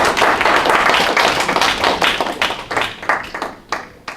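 Applause from a lecture audience at an education training institute, a dense wash of many hands clapping that thins out over a few seconds into scattered, separate claps.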